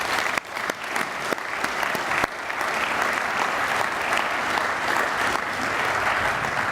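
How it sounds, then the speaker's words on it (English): An audience at a university reunion opening assembly bursts into sustained applause after a few sharp early claps, a dense, steady crowd clapping that fills the hall. "Let's give them a big round of applause."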